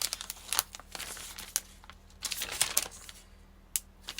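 Packaging being torn open by hand: quiet, close crinkling and ripping in short irregular bursts with brief pauses between.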